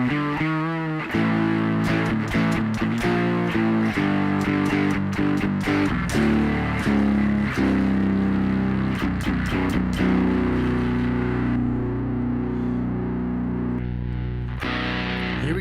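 A heavily distorted synth bass from the Mammoth Bass app on iOS plays a gritty riff with sharp attacks and sustained buzzing notes, loud and up front, no voices.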